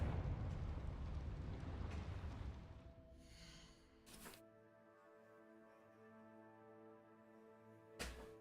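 A Confringo explosion spell in Hogwarts Legacy bursts with a loud rumbling blast that dies away, followed by a sustained tonal game hum and two sharp pops.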